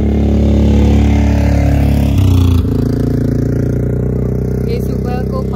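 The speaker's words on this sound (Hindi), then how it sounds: "सामने से फिर से एक बाइक कार आ रही है।" A motorbike approaches from the front along a darkening road, its loud engine drone steady and close throughout, rising briefly as it nears before settling into a continuous rumble.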